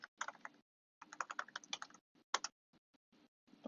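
Bursts of clicky computer keyboard typing come in quick, uneven clusters with short pauses between them, close and fairly quiet, while someone sets up admin access on a Facebook page.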